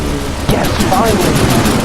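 A minigun fires in the naval combat video game From The Depths, a rapid burst of dense, rattling shots layered with loud, excited talk over the gunfire.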